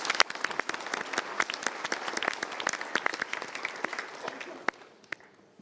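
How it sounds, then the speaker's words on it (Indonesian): An audience at a motivational talk claps together, the sharp hand strikes dense and steady at first, then thinning and fading out toward the end. "Kita berikan tepuk tangan dulu."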